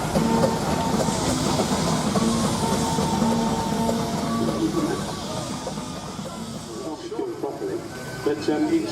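A small sign-written tanker vehicle circles a steam and craft show arena, a steady mechanical chugging rumble under continuous announcer talk and crowd ambience, fading slightly toward the end.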